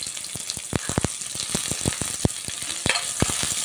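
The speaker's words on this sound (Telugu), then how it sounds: "కొంచెం లైట్ పింక్ షేడ్ వచ్చేదాకా వేయించుకుందాం." Chopped onions and green chillies crackle in already hot oil in a pan, with a busy sizzle and frequent sharp spattering pops and scrapes, close and fairly loud.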